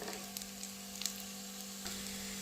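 Garlic frying in a pan gives a steady, close, soft sizzle with faint crackles and a low background hum, no voices.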